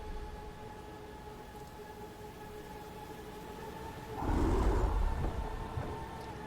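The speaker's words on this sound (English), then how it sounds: "I heard growling in reply." A creature growls in the Tiny Bunny horror video game: a single loud, rough burst rising out of a dim, noisy corridor ambience about two-thirds of the way through, then fading back into the low background hum.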